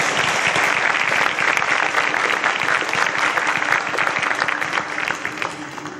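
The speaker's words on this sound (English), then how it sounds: "A round of applause for them as they exit the stage." Dense, sustained applause fills a studio hall as quiz-show contestants leave the stage, with loud continuous clapping from a sizable crowd throughout, easing slightly toward the end.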